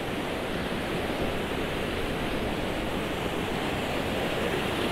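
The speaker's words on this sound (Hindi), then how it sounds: "ये झरना," A mountain waterfall in Ladakh rushes in a steady, dense roar of falling water with no breaks and no voices, heard close and loud throughout.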